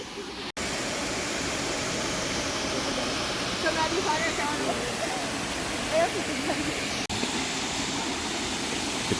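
A steady, broad rush of river water flowing in Portland, constant and fairly loud throughout, with faint voices under the roar.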